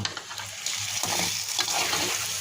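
Bottle gourd poured into a pan of onion-garlic base with shrimp, bubbling and sizzling steadily up close, with stirring scrapes throughout and no talk.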